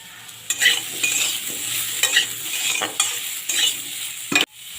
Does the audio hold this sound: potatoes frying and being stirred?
yes